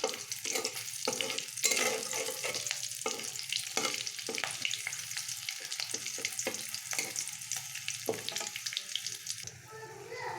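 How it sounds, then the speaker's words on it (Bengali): Bay leaves, green chilli and panch phoron fry in oil while a spoon stirs, giving a close, continuous sizzle broken by repeated scraping and tapping strokes against the pan, with no talk. "ফোড়নটা যতক্ষণ ভাজা না হচ্ছে ততক্ষণ নাড়বো।"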